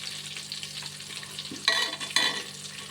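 Potatoes frying in oil get stirred in a pan, a steady close sizzle with a couple of louder scraping turns of the spoon near the end, no voices.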